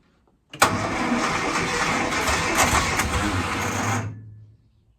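Car engine cranking and catching with the choke pulled after dashboard rewiring, then running roughly at a loud, steady idle for about three seconds before dying away, close by with no talking.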